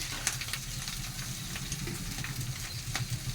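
Egg fried rice with onion and green chilli sizzles in a pan: a continuous, close frying hiss broken by rhythmic scrapes and taps of stirring.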